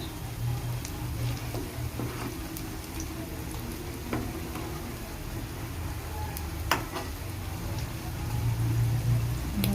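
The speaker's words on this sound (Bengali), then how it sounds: "আমি বড়াগুলো তেলে ছেড়ে দিয়েছি" Soft, steady sizzling of cabbage fritters frying in oil, with scattered small pops and crackles over a low background hum.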